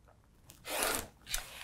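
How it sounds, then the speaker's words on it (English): Rotary cutter slicing straight along a line through fabric, a short close rasping cut followed by a brief second stroke, quiet surroundings. "I'm going to grab my rotary cutter and let's just cut straight on that line."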